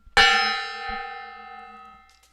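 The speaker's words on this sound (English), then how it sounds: "We bang that gong." A gong struck once with a loud metallic clang that rings on in a long shimmering sustain and slowly fades over about two seconds.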